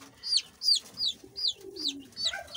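Fayoumi chickens in a backyard flock give a run of repeated high clucks and chirps, close and clear, with a low drawn-out call underneath partway through.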